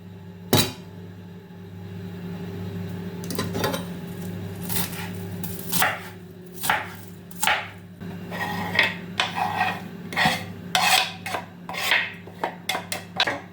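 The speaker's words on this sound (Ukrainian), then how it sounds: "Так от придавлюю і разом все ріжеться." A knife chops partly frozen zucchini on a cutting board in a home kitchen, pressed down so everything cuts together: irregular sharp thuds and knocks, some in quick clusters, close over a steady low appliance hum, with no talking.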